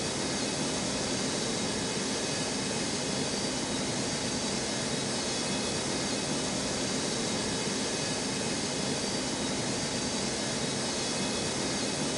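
Jet aircraft taxiing at Newark airport, a constant broadband roar and whine that stays steady and loud throughout with no breaks, nothing else standing out.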